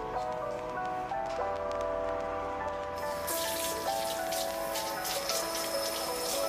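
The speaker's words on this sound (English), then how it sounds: "You need to wash your hands?" A child washes her hands under running water at a kitchen sink while baking cookies, with steady close splashing and tap flow that grows brighter midway, and a voice speaking briefly.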